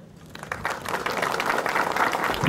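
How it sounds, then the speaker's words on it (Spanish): An audience at a student civic parade in Santa Rita breaks into applause, which rises from faint scattered claps to fuller, steady clapping. "un buen desfile y un fuerte aplauso."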